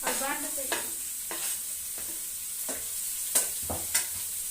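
Chopped carrot, capsicum and cauliflower sizzle steadily in a hot pan while a spatula stirs them, with several distinct scraping strokes punctuating the continuous frying hiss, heard close and without talk.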